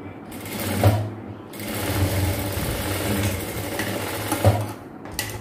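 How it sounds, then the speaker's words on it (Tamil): Sewing machine stitches chudidar fabric at a tailoring class, a steady close whirring hum running nearly the whole time, with brief stops at the start and end. "இப்போ ரெண்டு பக்கமும் நான் ரெண்டு தையல் போட்டுக்கிறேன்"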